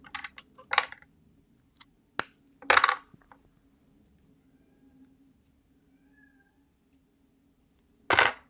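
A house cat meows several times indoors, short loud cries in a burst near the start, a couple more around the middle, and one final meow at the end, with quiet gaps between.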